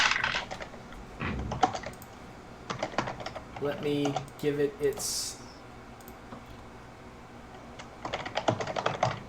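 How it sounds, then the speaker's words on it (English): Loud clattering keystrokes on a computer keyboard come in bursts during an online tabletop game session, mixed with a person talking over them. "Someone's typing real loud"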